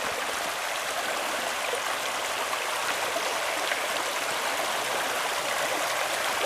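The Léguer river at Coat an Noz rushing and splashing in a steady, even flow, close and continuous with no voices.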